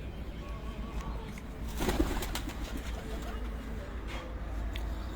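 Pigeons cooing on a rooftop, low soft calls repeating over a steady background hum, with a brief louder burst near the middle.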